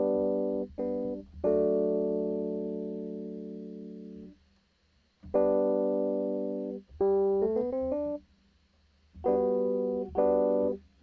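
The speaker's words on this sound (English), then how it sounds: "Can always use some smooth, deep electric piano chords." Smooth, deep electric piano chords in Ableton Live. Sustained chord stabs ring out and then drop to silence, and a couple of rising chord runs are heard. No talking.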